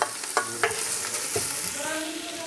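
Tripe sautés in a pan for pinapaitan, sizzling steadily and close, with a few sharp scrapes and knocks of a utensil stirring through the hiss.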